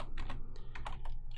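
Keystrokes on a computer keyboard while a list is entered into a code block in Dynamo software: a quick run of close, clicky taps in an uneven rhythm over a low steady background hum, with no talking.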